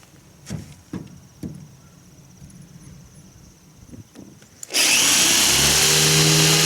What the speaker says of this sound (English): we've got the old-fashioned electric drill, and see if we can make holes in this.